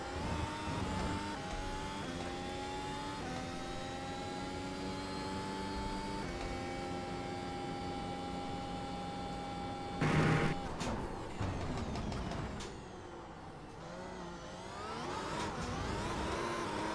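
A race car in a sim racing game running one lap, its engine holding a steady loud drone with rising gear tones and shifts, a sharp burst midway, then revving and fluctuating pitch through corners, with no talk.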